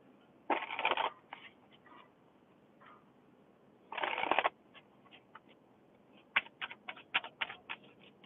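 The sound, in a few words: shuffling tarot cards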